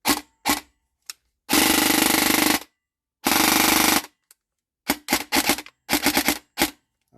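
Airsoft gun firing in a muffled, quieter setup, with short single shots and longer sustained full-auto bursts separated by silence, then rapid clusters of shots near the end.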